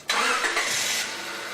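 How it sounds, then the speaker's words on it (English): A car engine cranks and starts during a BG cooling system flush service, then settles into a steady, loud run with no talking. "Start the engine"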